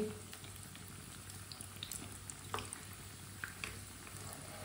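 Bread rolls frying in a pan, a quiet, steady sizzle with faint crackles and pops, heard close but low in level, with no talk over it.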